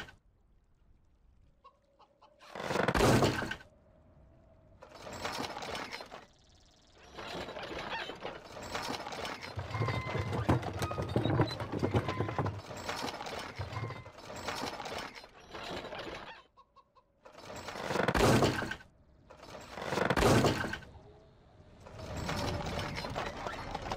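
A pumpkin-themed mount in a wizardry video game makes clattering, ratcheting mechanical sounds with cluck-like squawks. The noise comes in loud bursts separated by short pauses, with a busier stretch in the middle.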